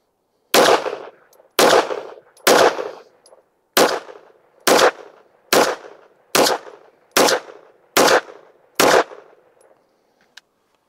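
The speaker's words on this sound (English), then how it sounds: "We're just going to shoot a 10-shot group." Ten pistol shots fired from a Fenix GL19R handgun using Winchester white box ammunition, spaced roughly a second apart in a steady rhythm, each a loud, sharp crack with brief ringing decay, followed by a faint click at the end.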